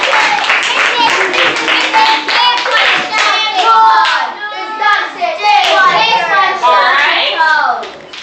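A classroom of children claps together in a quick burst of rhythmic hand claps, with children's voices chattering over and around the clapping.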